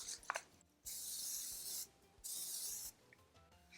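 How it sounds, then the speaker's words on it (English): Two long bursts of aerosol cooking spray onto a 9 by 13 baking pan, close and hissing, separated by a short pause, with a faint tap before the first. "we're going to spray a 9 by 13 baking pan or baking dish with cooking spray"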